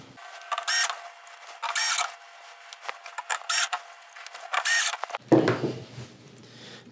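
Electric screwdriver whirring in several short bursts while driving screws into the housing of a VIZIO V436-G1 television during a board repair, close and loud with brief pauses between, ending in a rougher handling noise.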